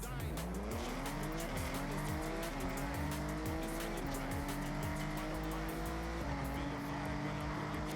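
Drifting car in the racing game Forza Horizon 6, its engine revving in rising and falling sweeps while tires squeal continuously for several seconds, loud and close throughout.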